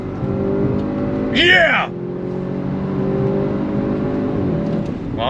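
An Audi RS 6 Avant accelerates hard in second gear with a loud, steady engine drone close by. A voice briefly whoops over it partway through.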